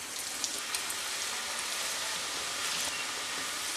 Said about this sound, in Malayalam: അതുപോലെ ബാക്കിയുള്ളതും കൂടെ ഫ്രൈ ചെയ്തെടുക്കാം.